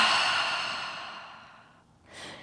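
A long, audible breath out during a core-strengthening yoga session, a soft airy exhale that fades slowly, followed by a brief fresh intake of breath, close and quiet with no speech.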